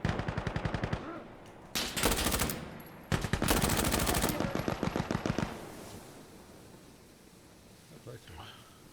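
Bursts of rapid M249 machine gun fire in the video game Insurgency Sandstorm, loud and close in long rattling volleys, with quieter distant shots trailing off afterward.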